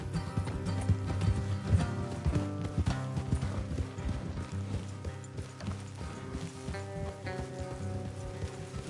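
Horses ride in Red Dead Redemption 2, hooves clip-clopping in a steady rhythm alongside creaking tack and gear, with musical tones layered underneath at moderate loudness.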